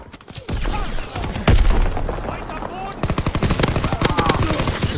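Shotgun fire in the video game Call of Duty comes as loud, close, rapid blasts in bursts, growing into a dense string of shots toward the end.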